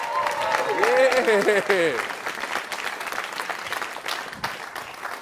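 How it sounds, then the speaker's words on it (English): Audience applause at a live jazz show, a dense, loud wash of clapping with crowd noise, while a voice speaks over it early on and the applause fades slightly toward the end. "One more time, round of applause"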